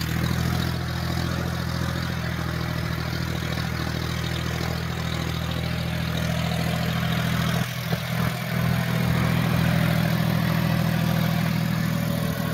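A John Deere 5205 tractor pulls a harrow as its wheels slip, its engine droning steadily and loudly with a brief uneven bump partway through, with no voices.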